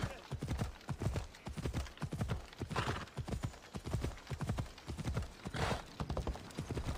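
Rhythmic clip-clop of horse hooves walking at a steady pace in Assassin's Creed Odyssey video game, close and clear, with a voice speaking over it at times.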